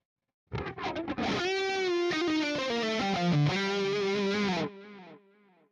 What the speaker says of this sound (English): you can put flanger, longer delays, more reverb, do something like this